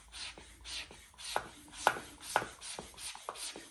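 Handheld bike pump pushing air into a central heating system, about eight regular rasping strokes roughly half a second apart, close and fairly quiet, with nobody talking.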